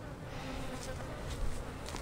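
Honey bees hum steadily inside an open beehive during a supercedure queen inspection, a soft continuous buzz close by with faint handling noises and no speech.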